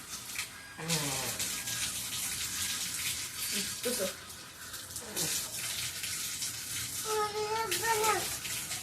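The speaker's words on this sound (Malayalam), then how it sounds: "കുഞ്ഞു വായിൽ വെള്ളം കൊടുക്കുന്നതാ" Water runs and splashes from a tap while a small child rinses their mouth after brushing teeth, with short bursts of a voice and adult speech over the steady flow.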